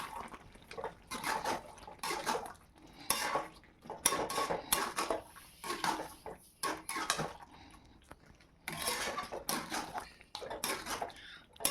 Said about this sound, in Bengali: এখানে চিকেন মশলা দিয়ে ভালোভাবে মিশিয়ে নেব